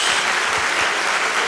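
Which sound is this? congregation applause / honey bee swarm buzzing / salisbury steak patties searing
congregation applause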